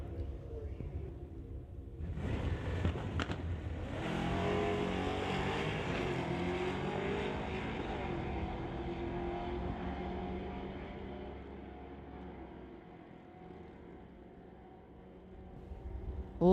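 A 1969 Acadian and a 1971 Pontiac drag racing at a street-legal strip: engines roar up hard at launch, then a loud sustained drone that slowly fades into the distance, with a faint voice early on.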